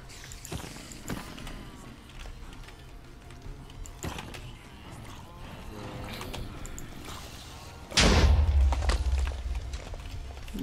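An unexpected explosion in the video game Minecraft: quiet in-game ambience and soft steps give way to a sudden loud, booming blast that rumbles on for a couple of seconds.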